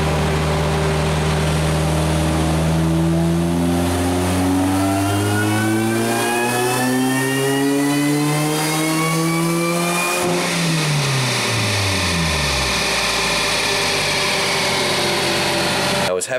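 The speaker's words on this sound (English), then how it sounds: "we're back on the dyno to get it right and then finally make some power" Loud engine revving on a chassis dyno, the car fitted with a 2.6 supercharger pulley and 80-pound injectors, pitch climbing steadily through a long full-throttle pull before dropping away as it winds down.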